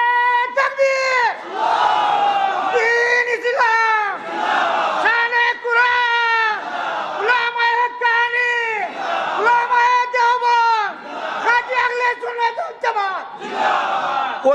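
A large crowd at an Islamic sermon gathering chants back in loud unison after a takbir call, about seven repeated rhythmic shouts of roughly a second and a half each, strong and close, with brief gaps between them.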